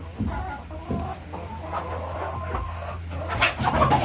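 Hens cluck and squawk in short, agitated bursts while being caught and loaded into transport crates on a small farm, close and irregular, growing busier toward the end.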